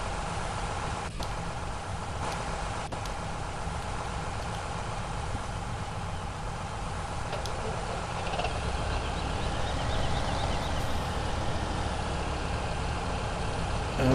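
A Massey Ferguson tractor engine in a modded farming video game runs steadily and fairly loud, a low rumbling drone that rises slightly toward the end, with a few faint clicks.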